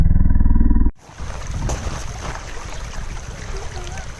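After a brief burst of low droning music, steady rushing water from a creek takes over, a continuous close broadband wash with small gurgles and splashes and no talk.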